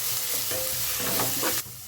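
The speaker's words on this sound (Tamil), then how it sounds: "இந்த வெங்காயம் இந்த உப்பு போட்டுருக்கு நல்லா வதங்கும்" Onions with salt sautéing in a pan, a close, continuous sizzle with scraping stir strokes throughout, ending abruptly; no speech.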